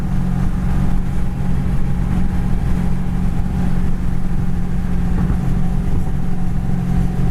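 A 1938 Ford Tudor drives straight down the road, its engine and road noise forming a loud, steady, close drone with a low rumble that holds constant throughout.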